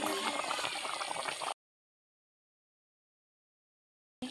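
Chicken curry simmering in a clay pot with soft bubbling and gurgling liquid, a steady close hiss for about a second and a half, followed by silence and a brief return at the end.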